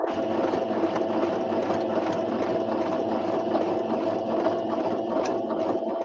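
A sewing machine stitching a fabric pocket book hums continuously and steadily at close range, a dense mechanical drone without pauses or talk.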